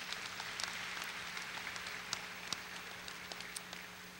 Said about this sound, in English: let's have a final round of applause for the Garland High School student athletes